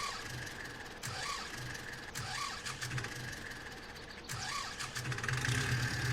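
An older tractor engine in a farming game cranks and turns over in a few attempts, then catches and runs with a rough, loud mid-pitched idle, with no talk over it.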